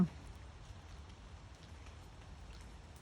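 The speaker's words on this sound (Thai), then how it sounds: "บรรยากาศฝนตก" Steady rain falling in a forest, a soft continuous patter of drops on leaves and ground that holds at an even, fairly quiet level for the whole stretch, with no voices.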